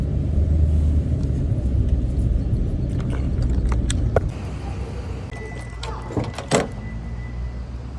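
Car driving along a road heard from inside the cabin, a low steady rumble that fades after a few seconds, followed by a few faint clicks and a brief knock.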